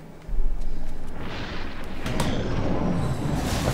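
A grenade explodes in the video game XCOM 2, a loud sudden boom followed by a sustained rumbling roar and debris crackle that carries on to the end.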